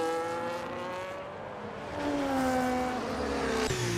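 A race car engine on a flying lap of a sim racing game's Australia round, sustained loud whine with rising and falling pitch as gears shift, then a sharp drop near the end as the car brakes, with no talking.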